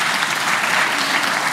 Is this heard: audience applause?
yes